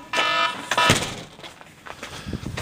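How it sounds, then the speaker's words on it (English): A kitchen timer goes off during homebrew beer brewing, giving a short burst of bright electronic beeps among kitchen clatter and steam noise, with no voices. "The timer's done for the last set of hops."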